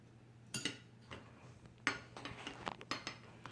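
A utensil stirs Elmer's glue slime mixed with graham cracker in a bowl, giving a string of scattered light clinks and taps against the dish at an uneven pace, fairly close and quiet.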